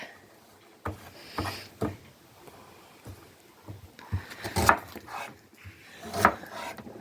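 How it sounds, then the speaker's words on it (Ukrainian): A knife chops onion for frying in a home kitchen, a handful of sparse, irregular cutting knocks on a board, fairly close and quiet, with no voices. "Свиронька ріже цибульку на зажарочку, на наш перчик."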